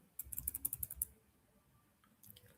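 Quick burst of keystrokes on a computer keyboard, close and soft, about a dozen clicks in a second, then quiet with a few more taps at the end.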